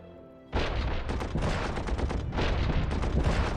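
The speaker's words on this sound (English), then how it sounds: "Let's do some bombarding." Dense artillery bombardment in the World War I strategy game Commander: The Great War, as Austrian guns shell an enemy province: a sudden onset, then a loud, continuous barrage of overlapping booms and blasts with no voices.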